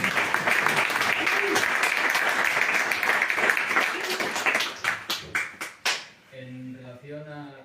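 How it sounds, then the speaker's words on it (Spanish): Audience at a talk on feral cat colonies applauding, a full round of clapping that thins into a few last separate claps before a voice begins speaking. "un aplauso para ellos."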